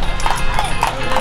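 Hooves of a horse pulling a delman carriage clip-clop in a steady, close rhythm on a street in Malioboro, with people talking and street noise around.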